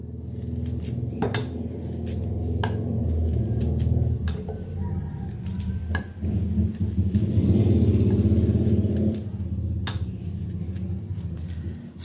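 Star fruit chopped up whirring in a kitchen blender, a steady motor drone with rattling pitch shifts as the pieces break down, loud and continuous near the mic, with some clinks along the way.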